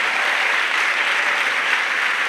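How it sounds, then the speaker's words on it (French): A church congregation claps for Jesus in a dense, even burst of applause, steady and fairly loud throughout. "Let's clap for Jesus."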